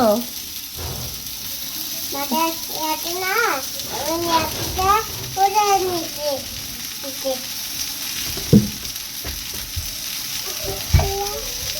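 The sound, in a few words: frying food in a pan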